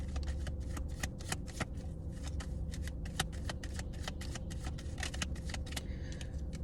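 A deck of tarot cards is shuffled over and over, a soft riffling patter with brisk flicks, close and quiet, alone without speech.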